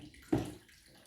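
A short burst of running water from a tap during hand washing, faint and brief, a single splash lasting under half a second amid quiet room tone.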